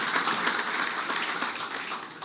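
A church congregation applauding during a Spanish-language sermon, a dense, steady wash of many hands clapping at once, fairly loud and close, with no talk over it.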